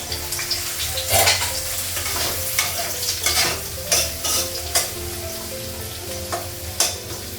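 Potatoes sizzle steadily frying in a hot pan on a gas stove while a utensil scrapes and stirs in repeated strokes, close and fairly loud.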